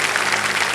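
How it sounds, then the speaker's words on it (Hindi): Studio audience on a Hindi television quiz show breaks into applause, a dense, steady wash of clapping that fills the whole moment without any voices on top. "जनता ने पहले ताली बजा दी"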